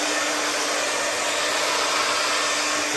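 A vacuum used for dryer vent cleaning runs as a loud, steady, continuous roar through the whole short stretch, close by and alone.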